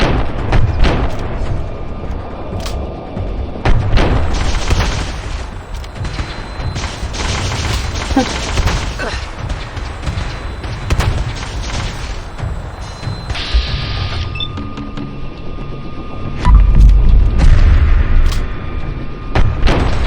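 Pump-action shotgun blasts in the video game Fallout 4, a loud run of booming shots and mechanical clatter through a busy combat mix, with no talking over it.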